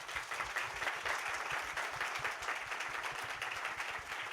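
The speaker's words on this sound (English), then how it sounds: "Let's give our panel a round of applause." Audience applause for a panel at a live discussion event, a dense, steady wash of many hands clapping throughout, loud and continuous with no pauses.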